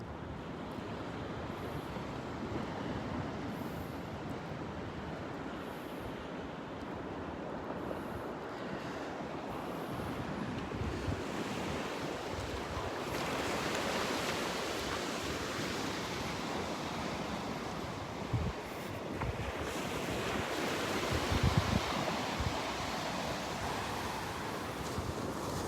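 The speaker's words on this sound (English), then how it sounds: "walk along the water's edge and listen to the waves here" Ocean surf breaking at the water's edge on a North Naples, Florida beach, a steady broadband wash of waves with wind noise on the microphone, swelling slightly louder toward the end, with no talk.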